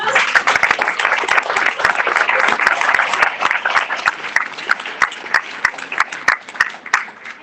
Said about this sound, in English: wave your hands and let's clap for you